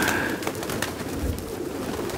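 Pigeons of the Santorini high-flying breed, with tall upright feathers, coo softly amid a steady background of other bird calls, close by and continuous, with no voices heard.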